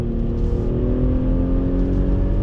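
A 2020 Audi SQ5 with quattro all-wheel drive pulls hard out of a roundabout, its engine droning loud and steady from inside the cabin with a rising tone as it accelerates.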